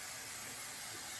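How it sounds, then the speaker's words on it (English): A short, close spray of Verb Ghost Dry Oil onto the ends of hair makes one continuous soft, airy hiss from an aerosol can. "the Verb Ghost Dry Oil that I like to spray on my hair just on the ends."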